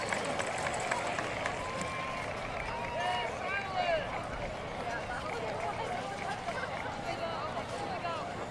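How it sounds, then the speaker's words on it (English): A football stadium crowd at a high school bi-district playoff game (Argyle vs. Frisco Emerson) applauds and cheers in a steady, dense wash of clapping and crowd noise with voices mixed in. "Let's give them a big round of applause"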